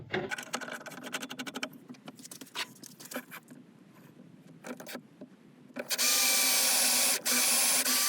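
A drill boring a center hole into an oak burl blank mounted on a lathe, with scattered tapping and handling noises before a loud, steady close-up motor whine takes over for the final two seconds.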